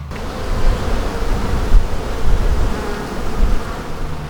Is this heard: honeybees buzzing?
yes